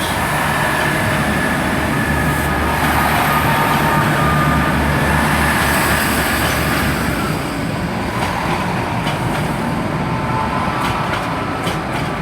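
Class 165 Turbo diesel multiple units, a double pairing, depart Bristol Temple Meads station with a continuous loud rumbling engine drone and rolling noise that holds steady, then thins slightly as the train pulls away.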